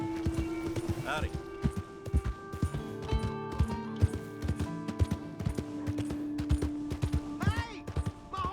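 Horse hooves clip-clop along in Red Dead Redemption 2, a steady run of close, sharp hoof hits under ambient game music, with voices talking over them and a brief whinny-like call.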